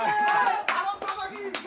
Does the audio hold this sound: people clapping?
yes